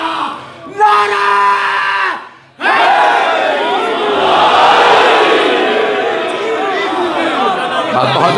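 A large gathering at a religious sermon shouts a slogan back in unison with full force, loud massed voices following a leading call, with a brief pause before a long, swelling collective roar.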